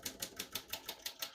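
Keys struck on a 1937 Royal O Model portable typewriter, a run of about seven crisp, evenly spaced mechanical clacks, close and loud with no voice over them.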